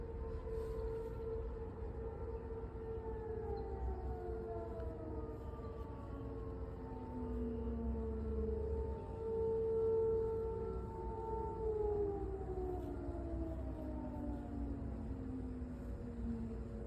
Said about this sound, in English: Those are the tornado warning sirens.